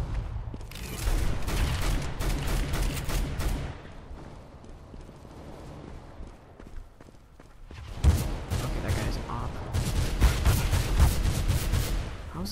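Dense bursts of automatic gunfire in Counter-Strike: Global Offensive, loud and rapid in two long volleys separated by a quieter lull, with little talk over them.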